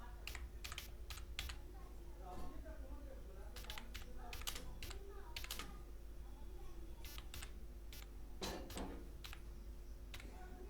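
Keys clatter as code is typed on a computer keyboard during C programming, with irregular clusters of sharp close clicks and short pauses, and quiet speech underneath.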